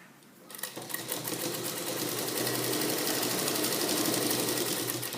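A sewing machine stitches elastic into a salwar pant, starting up and then running in a steady fast whirring rattle close by, with no talk.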